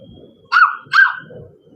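Two sharp, high-pitched yelps in quick succession from a small dog or puppy, close by, with faint low rustling in the background.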